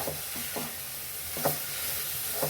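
Carrot halwa with milk powder being stirred in a pan, a spoon scraping through the thick mixture in a few soft, separate strokes over a faint background hiss, with no voices.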